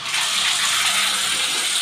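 Water gushes steadily into a home aquarium from a running tap or hose, making a continuous close, loud hiss with no break and no voices.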